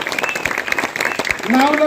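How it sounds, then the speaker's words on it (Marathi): Townspeople at a ward 8 gathering in Sant Kabir Nagar clap for a group of young workers. The applause is dense and continuous beneath a loud voice and other tonal sounds. "नगरातील लोकांनी, या नगरातील लोकांनी जोरात टाळ्या सगळ्या पोरांसाठी वाजवा"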